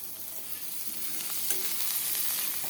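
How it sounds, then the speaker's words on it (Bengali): Spiced vegetables frying in oil in a pan, a continuous dense sizzle and crackle heard up close with light stirring, steady and moderately loud, with no voices. "এটা ভালো মতন মশলাটাকে ভাজা হবে, এটা ভাজা হোক"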